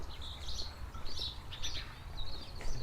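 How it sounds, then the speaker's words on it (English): Small birds sing outdoors along a village path in Norton St Philip on a clear blue-sky day, with repeated bright chirps and short trills coming in quick bursts over a quiet background, no voices. "the birds are singing nicely, aren't they"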